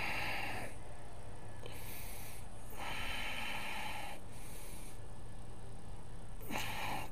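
Slow, deep yoga breaths during a vinyasa class: four or five loud, airy inhales and exhales close to the microphone, evenly spaced over a faint steady hum.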